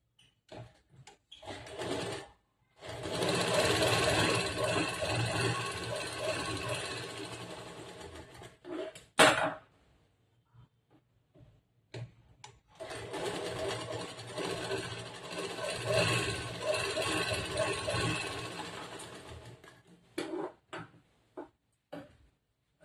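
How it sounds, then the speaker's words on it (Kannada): A sewing machine stitches a collar-neck blouse's main cloth and lining in two long runs of steady rapid whirring, separated by a pause of fabric handling and clicks, close and clear. "ಮೇನ್ ಕ್ಲಾತ್ ಮತ್ತೆ ಲೈನಿಂಗ್ ನ ಒಂದ್ ಸೈಡ್ ಇಂದ ಸ್ವಲ್ಪ ಸ್ಟಿಚ್ ಮಾಡ್ಕೋಬೇಕು."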